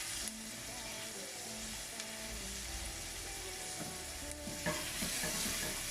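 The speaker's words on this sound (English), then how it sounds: "Just waiting on the onions to cook now." Onions and rosemary cook in a pan with a quiet, continuous sizzle, a few soft utensil scrapes and a brief louder stir near the end, with no talking.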